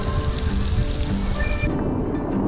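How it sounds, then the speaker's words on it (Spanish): A steady, dense hiss of heavy rain pouring and splashing on surfaces during a camping trip in Iran, with water overflowing everywhere, constant and close throughout with no voices. "es una lluvia bien tocha porque está todo desbordado"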